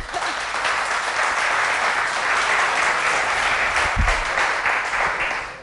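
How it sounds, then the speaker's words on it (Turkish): Dense, continuous applause from a television studio audience, loud and even throughout with no voices over it, tailing off slightly at the very end. "Alkışlarla alayım."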